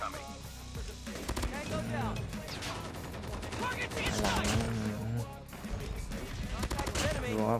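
Chopper light machine gun firing in Call of Duty Mobile, a dense, sustained stream of automatic fire that runs almost continuously under someone talking throughout.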